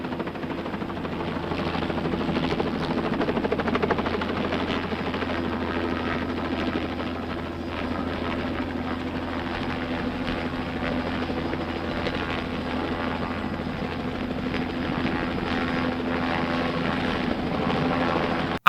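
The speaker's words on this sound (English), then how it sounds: "The helicopter flying and the cars." A helicopter flies steadily in an action movie, a continuous loud droning rotor and engine hum that holds an even level without breaks for the whole stretch.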